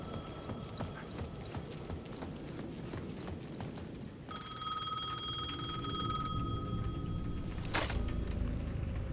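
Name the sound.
payphone ringing in video game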